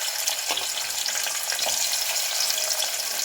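Onion pieces fry in hot oil in a cooker for a chicken curry, giving a close, steady sizzle with a few sharper crackles and stirring scrapes, with no talking.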